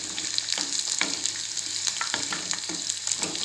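Onions sautéing with coconut and tamarind in a pan, a loud continuous sizzle broken by regular scraping strokes of a spoon stirring, about two or three per second, no talk.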